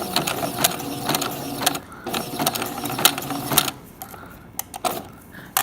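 A serger sewing machine runs in quick mechanical bursts while it stitches a hemp basket, with a small screwdriver helping feed the material. The motor whirs and clatters close up, then stops and starts again in short spurts.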